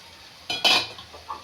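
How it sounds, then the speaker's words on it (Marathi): A spoon scrapes and clatters against a pan in two quick bursts as cooked sprouted moth beans are stirred into masala, followed by a softer scrape, with a faint sizzle underneath. "आता आपण शिजलेली मटकी घालून घेऊया।"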